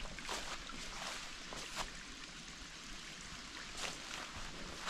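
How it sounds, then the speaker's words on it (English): Water overflowing from a flooded old mine beside a roadway, a steady rushing, splashing flow heard from nearby, with scattered brighter splashes and faint wind noise. "The mine is very much flooded, puts out quite a bit of water that's overflowing"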